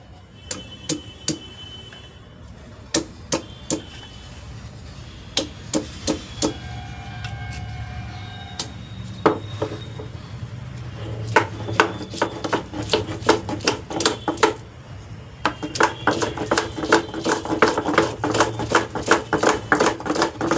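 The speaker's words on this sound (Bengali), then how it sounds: "এই শিলে আজকে মশলা করব।" Spice paste being ground on an old traditional stone shil, with a run of sharp knocks and scrapes, irregular at first, then quicker and denser, close up and fairly loud.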